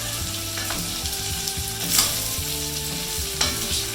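Steady frying sizzle of chicken and red and yellow bell peppers in a pan with occasional stirring clatter, continuous and close, no talking.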